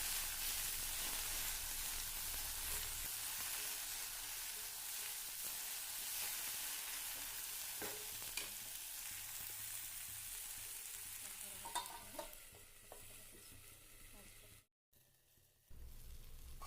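Okra (lady finger) sizzles steadily as it fries in a pan, a continuous close, loud crackle that eases a little near the end before a brief break, with no talk.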